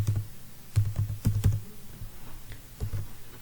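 C program code being typed on a computer keyboard, irregular clusters of close, solid keystrokes with brief gaps between them and no talking.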